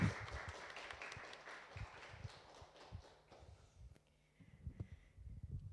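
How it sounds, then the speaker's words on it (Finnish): An audience applauds author Laura Gustafsson at a book talk with a dense patter of claps that thins out and fades midway, followed by a few scattered claps and shuffles near the end. "Annetaan Lauralle aplodit."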